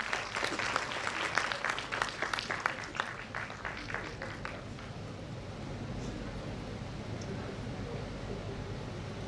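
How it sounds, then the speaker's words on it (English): A round of applause at a bank officers' association women's convention, dense clapping for the first few seconds that thins and fades into a lower, steady room murmur. "Kindly give a huge round of applause for him."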